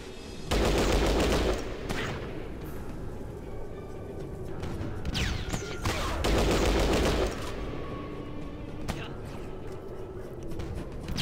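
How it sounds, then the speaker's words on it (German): Plasma and laser weapon fire in the video game Fallout Tactics, with loud bursts of shots and blasts in two dense volleys and scattered fire between them, a voice talking over parts of it. "Die haben wirklich Plasma- und Laserwaffen."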